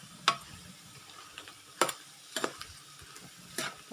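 A spatula stirs pork intestine frying in oil in a pan, a soft sizzle underneath and four or five sharp scraping knocks at irregular intervals, quiet and close.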